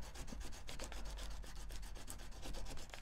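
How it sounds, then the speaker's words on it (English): A jeweler's burnisher tip rubbed briskly back and forth on polishing rouge, a dense rapid rasping friction of quick even strokes, close and steady with no talking. "And just rub some rouge."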